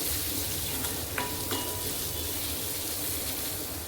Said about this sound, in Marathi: मस्त भाजून घेते हे मसाले.